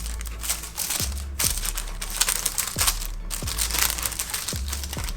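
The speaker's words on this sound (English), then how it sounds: "Here's the beautiful tissue paper." Tissue paper from a Hermès bracelet box is unwrapped up close: continuous crinkling and rustling with soft thumps of handling every second or so, and no talking.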